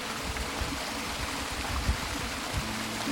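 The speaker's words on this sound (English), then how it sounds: "So relaxing, hearing the sound of water in the background." Water flows steadily in a constant broad rush, like a nearby stream on the Pennine Way, with a few soft splashes and no voices.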